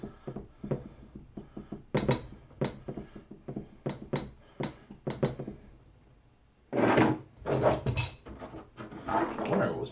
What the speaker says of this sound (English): I wonder what was making that rappity tappity glass sound.